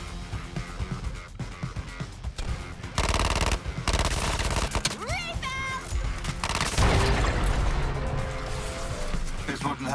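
Gunfire aimed at a cannon's weak spot in Suicide Squad: Kill the Justice League, with loud rapid bursts of shots amid dense game effects, engine-like whines and a voice talking over the action.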